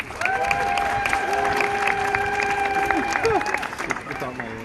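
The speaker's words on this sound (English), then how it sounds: "Let's give everyone a welcoming round of applause." Welcoming applause from an aquarium audience at a dolphin training show, dense clapping mixed with crowd noise and whistle-like dolphin squeals, sustained throughout while a voice talks over it.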